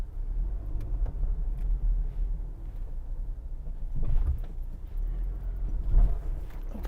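A car driving slowly near Sydney's Northern Beaches while searching for a parking spot, with a steady low engine and road rumble inside the cabin and a few faint knocks and rattles, no talking.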